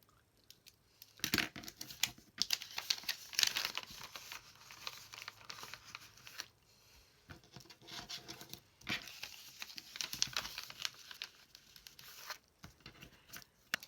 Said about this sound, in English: I only want to cut through the top piece. Okay, so we need to cut this horizontal line.